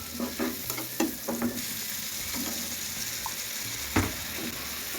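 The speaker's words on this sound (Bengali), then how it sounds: "কষিয়ে নিচ্ছি।" Salt, turmeric, mixed spice and red chili powder fry in a pan with taro stolons, under a steady sizzle broken by several scraping stirs of a spoon, close and moderately loud.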